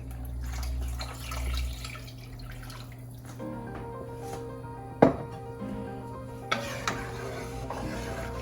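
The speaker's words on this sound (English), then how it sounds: "I'm gonna add 4 cups of water." Water pouring into a soup pot while making tortellini and vegetable soup, with a steady wet rush and a few clinks of the pot partway through, close and moderately loud.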